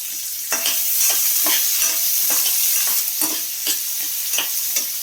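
A finely chopped large onion hits hot oil with curry leaves for banana-flower variety rice, giving a steady close sizzle broken by repeated stirring scrapes, with no voices.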